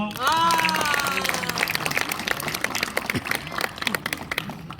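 Applause from the crowd at the opening ceremony of a disability football tournament, steady and moderately loud, with a tonal voice or whistle-like sound at the start and some background talk.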